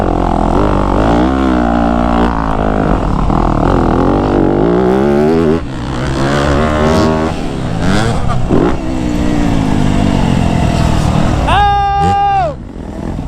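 A 2025 Yamaha YZ250F dirt bike on a sand track in the woods revs hard through the gears. The engine note rises and falls up close, then a sharp high rev peaks near the end, with a voice talking over it.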